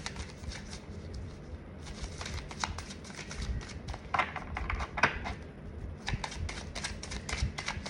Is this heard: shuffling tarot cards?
yes